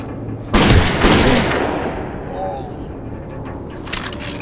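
Gunfire in Rainbow Six Vegas 2 comes as a couple of loud close bursts near the start, with the echo fading away and a few faint later cracks.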